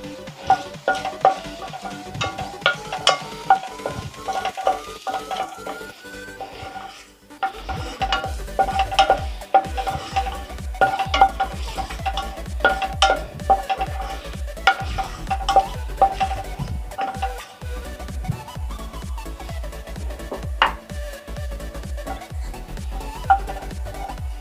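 Whole garam masala spices crackle in hot oil in a kadai, a soft steady sizzle under repeated clinks and scrapes of a ladle against the metal, with a low rumbling hum through most of it.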